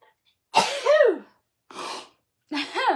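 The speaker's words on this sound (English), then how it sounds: "I'm just gonna sneeze." A person sneezes: three sharp bursts with rising-falling voiced tones and quiet gaps between, close and clear with no talk over them.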